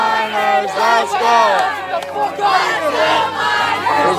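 A large visiting-side crowd at a high school football game cheers and shouts together in a loud, sustained roar that swells and fades in waves over several seconds.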